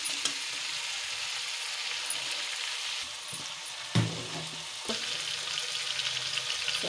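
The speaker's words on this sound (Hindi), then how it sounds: "सब्जी डाल देंगे, जब तक ये सॉफ्ट ना हो जाए तब तक वो पकाएं।" Vegetables for sambhar frying in a pan: a steady, close hiss of sizzling throughout, with a couple of soft knocks from stirring.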